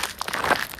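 The plastic wrapper of an energy bar crinkles in short, close rustling bursts as it is torn open outdoors during a mountain trail run.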